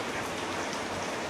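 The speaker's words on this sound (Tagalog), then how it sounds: "Lalo pang lumakas yung ulan." Heavy rain pours down on a farm in a dense, continuous hiss of drops striking surfaces, loud and close with no pauses.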